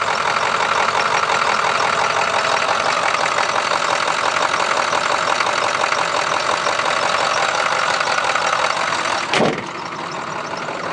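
A Ford F250 pickup truck engine idles just after a cold start, a loud, steady, rough rumble with a rapid rhythmic clatter running throughout, broken by one brief thump near the end.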